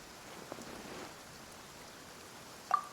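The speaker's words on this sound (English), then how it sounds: "Perhaps today's rain arrived thanks to you." Rain in the Genshin Impact video game patters in a soft, steady wash, faint and even throughout, with a couple of brief light ticks standing out near the start and end.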